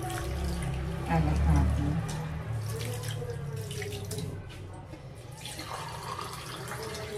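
Tap water runs steadily into a container to make brine for milkfish, a continuous splashing flow that swells briefly near the start, with a voice speaking over it.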